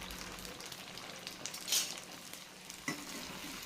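Vegetables sautéing in oil in a pan for a Tamil kuzhambu or thokku, a steady soft sizzle with stirring scrapes throughout and a couple of brief louder clatters, no voices.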